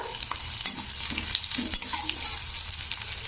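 Green chillies and curry leaves crackle in hot oil for a South Indian-style brinjal and peas dish, with a dense steady sizzle, crisp pops and light stirring scrapes, close up and without speech.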